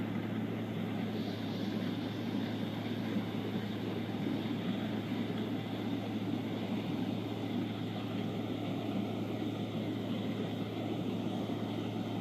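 Inside a small sightseeing airplane over the Grand Canyon, the engine and propeller give a constant, even cabin drone that holds steady from start to finish, with no voices.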